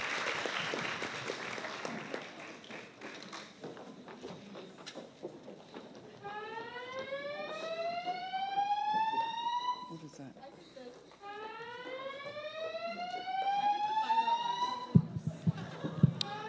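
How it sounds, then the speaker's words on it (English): An electronic alarm at an Earth Day film and fashion festival, set off when a contestant's elbow hit the fire alarm, sounds two rising whooping sweeps in a row over crowd murmur and talk. "one of our contestants' elbows just hit the fire alarm"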